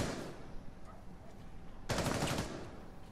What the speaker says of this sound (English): That's a Mozzie shooting.